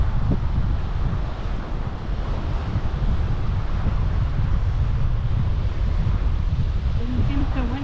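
Strong wind buffets the microphone down by the water at Edisto Beach, South Carolina, a steady, loud roar of gusty rumble that never lets up, with the wash of surf blended into it.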